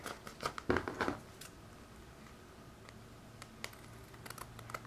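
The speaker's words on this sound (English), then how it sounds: "So I'm just going to trim it down with my scissors." Scissors trimming the edge of a Christmas shaker card, a short burst of close crisp snips and paper crinkles, then quieter scattered clicks and rustles.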